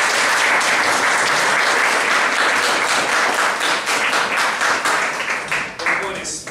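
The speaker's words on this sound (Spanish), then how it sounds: "Primero, por favor, un aplauso también a..." Loud, dense audience applause at a Spanish-language logistics workers' event, sustained clapping that thins slightly toward the end.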